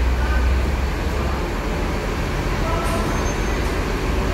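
A Rosalia Indah intercity bus pulls out of Palembang, its engine and road rumble a steady, loud, broadband roar that fills the whole stretch without a break.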